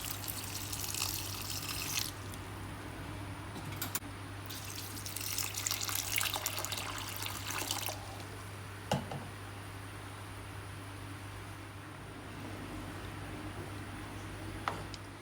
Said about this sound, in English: Next I'll be adding water to cook the beans.